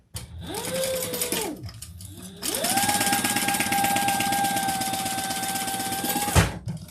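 A sewing machine stitches lightweight fabric in two runs, a short burst of whirring then a longer steady, loud run with a rising and falling motor pitch, ending in a sharp clunk.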